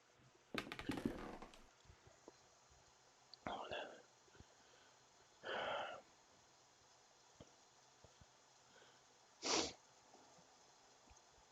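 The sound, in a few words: sneeze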